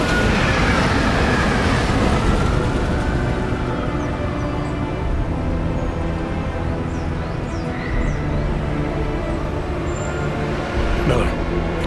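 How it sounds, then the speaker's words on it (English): A train runs on rails in the video game Deus Ex: Mankind Divided, giving a steady loud rumble with faint clatter and a brief squeal near the end, heard under people talking. "Just getting off the train now."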